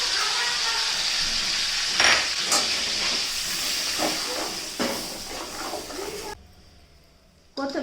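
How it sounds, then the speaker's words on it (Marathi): Curry leaves, garlic and spices sautéing in a pan give a steady loud hiss and sizzle with occasional stirring clatter, and a voice speaks over it before the sound drops away near the end. "कढीपत्ता घालून घ्यायचा, लसूण घालून घ्यायचा, सगळं चांगलं परतून घ्यायचं।"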